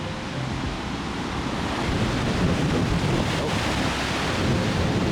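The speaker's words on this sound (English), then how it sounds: "these waves are no joke" Ocean waves breaking at Bondi Beach, a continuous loud roar of surf mixed with heavy wind buffeting the microphone, no voices.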